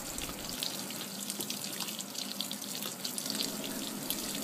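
Steady rushing water fills a washing machine from its own hot and cold supply in an off-grid container home, a continuous close splashing hiss with no talk.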